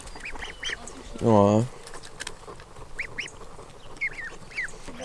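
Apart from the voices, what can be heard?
ducks quacking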